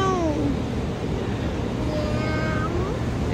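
A cat gives a couple of drawn-out meows, one at the start and another near the end, over a steady windy, surf-like background.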